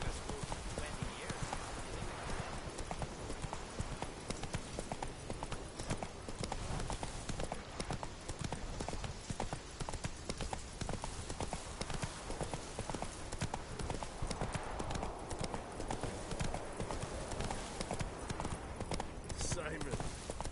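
In The Witcher game, the horse Roach trots steadily with rhythmic hoof clip-clops, heard against a dense, loud layer of ambient game sound and spoken dialogue.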